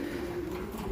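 Pigeons coo softly and continuously at close range in a brief stretch of low, steady cooing with no voices.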